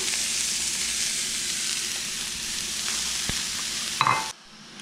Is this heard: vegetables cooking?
yes